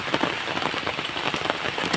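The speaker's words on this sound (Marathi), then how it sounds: "पाऊस चालू आहे बघा पाऊस चालू झाला आहे खूप पाऊस पडतो आहे" Heavy rain pours down steadily, a dense, close hiss of drops drumming on surfaces with no voices.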